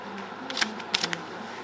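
A baccarat dealer burning four playing cards at a casino table, a few soft, close card slides and flicks in quick succession over quiet room tone.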